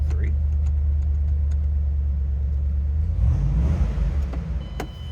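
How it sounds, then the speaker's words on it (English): A 2007 Ford Mustang Roush Stage 3 convertible with a five-speed manual idles loudly up close, a deep steady rumble that swells briefly as the engine revs slightly before settling again. "Nice sounding car."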